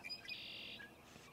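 Birds chirp outdoors on a spring day, giving a short, bright high tweet followed by a softer call, faint and alone with no speech.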